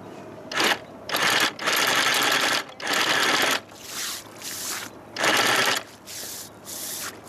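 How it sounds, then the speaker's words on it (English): An anchor chain scrubber works on a muddy chain as it is hauled aboard a cruising boat in San Francisco Bay, giving loud rhythmic bursts of scrubbing and rattling that repeat in pulses with short quieter gaps. "we use our chain scrubber to clean off the chain as we bring it up"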